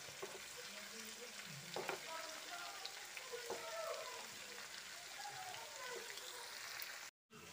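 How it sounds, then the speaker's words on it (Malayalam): Chicken pieces for chicken kondattam fry in a pan with a steady close sizzle, with a few clatters as the pieces are flipped, and no talk over them. "അപ്പം ഞാൻ ഇതിൻ്റെ ഒരു സൈഡ് മറിച്ചിട്ട് കൊടുക്കാം"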